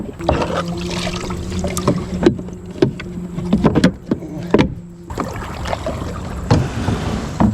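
A kayak pedal drive being pulled out and packed away on the water during a fishing trip at an abandoned mill: bursts of knocking, clunks and plastic rattles over a constant hum, with water sloshing now and then.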